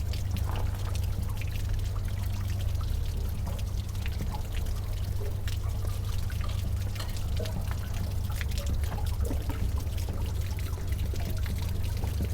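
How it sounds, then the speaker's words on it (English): Water drains steadily from RV holding tanks, a continuous close pouring and trickling rush with no breaks, carrying debris and hard Arizona water out through the drain. "Look at all that garbage coming out of there."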